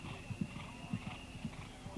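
Horse hooves pound an eventing cross-country course at the 1982 Kentucky three-day event, a fast regular galloping rhythm, faint and a little distant.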